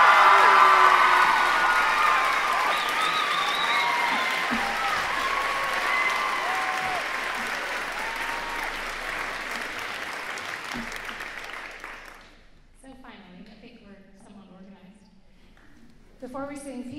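Concert audience at a school holiday choir performance applauds and cheers loudly for about twelve seconds, a dense sustained wash of clapping with whoops, then fades as a voice begins speaking.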